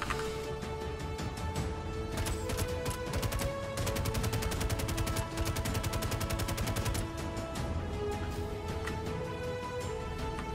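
Rapid automatic gunfire in the space game Star Citizen, long sustained bursts of fast repeated shots rattling loudly and continuously with no talk.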